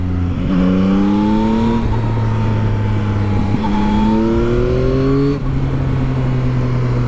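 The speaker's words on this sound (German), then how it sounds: "Und der Motor klingt halt auch in der Fahrt schön." Yamaha Tracer 9GT motorcycle with its three-cylinder CP3 engine heard while riding, a loud, close engine note rising in pitch through the gears with steady throttle between shifts and no talk.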